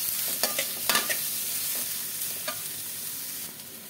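Chopped onion fries steadily in a hot pan, a continuous bright sizzle with a few sharper crackles and stirring scrapes, close and alone with no voices.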